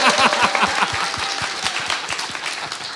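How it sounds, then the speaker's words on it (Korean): A small studio audience at a Korean talk show claps in scattered, crisp individual claps that fade out over a few seconds. "강 기자한테 박수 한번 보내주세요"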